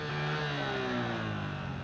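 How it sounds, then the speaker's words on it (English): A 1985 race motorcycle engine revs hard and steadily, its rising harmonic whine sustained loud and close throughout with no pauses. "How's the engine running? Smooth, can you hear it?"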